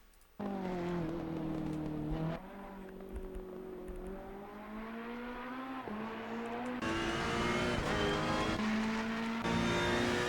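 A Ferrari 488 GT3 Evo laps Suzuka in Assetto Corsa Competizione, its engine droning loud and close and rising in pitch through each gear before quick shifts drop it back, with no talk over it.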